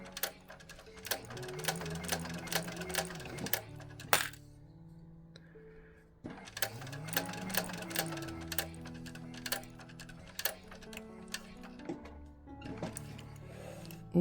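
A sewing machine top stitching a faux vinyl bag runs in two long bursts of rapid, rhythmic needle clatter, close and fairly loud, separated by a brief pause with a few clicks.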